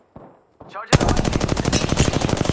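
Gunfire in Apex Legends: two separate shots come first, followed by a loud, fast sustained automatic burst that continues to the end.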